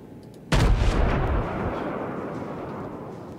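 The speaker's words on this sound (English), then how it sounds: "He's gonna fire his guns in a second and hit me in the back." A warship's big guns fire in a World of Warships naval battle: one sudden heavy boom that rolls into a long, fading rumble, loud and close, with no talk.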